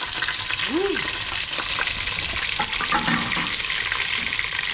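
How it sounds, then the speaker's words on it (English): Chopped celery tipped into a hot frying pan for salmon chowder, giving a loud, steady sizzle with scattered crackles and a few stirring scrapes up close. "Mom's gonna add the celery."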